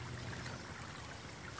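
A stream in a park gives a steady, faint rush and trickle of flowing water with no pauses and no talking.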